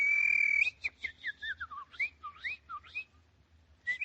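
A man whistles in imitation of a singing bird, with warbling, sliding chirps and trills in quick succession, close and clear over faint background hum.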